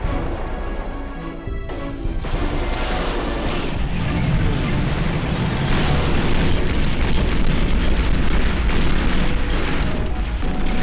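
Heavy artillery bombardment rumbles across a battlefield in a strategy video game, dense overlapping explosions and deep booms forming a loud, continuous roar of shelling with no clear gaps.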